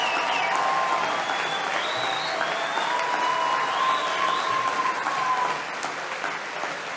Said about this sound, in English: They're giving him a standing ovation.